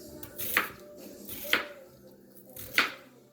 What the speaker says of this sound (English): cut a little bit of onion there for me, please, darling.